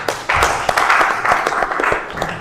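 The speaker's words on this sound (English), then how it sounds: "Can we have another round of applause for" Audience applause at a press conference, a burst of dense clapping from a crowd in a hall, loud and sustained for a couple of seconds before easing.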